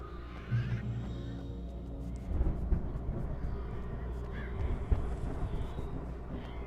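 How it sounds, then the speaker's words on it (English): Crows caw intermittently in the horror video game Alan Wake, faint and somewhat distant amid a dense, rumbling game soundscape. "More birds, birdies."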